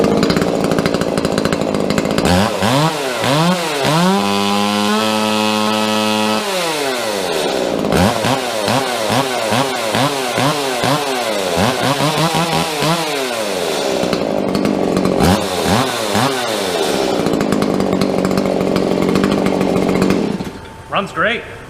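A chainsaw with a homemade muffler modification revs repeatedly with its chain spinning, loud and close, rising and falling in quick bursts with sustained high-revving stretches, then cutting off near the end.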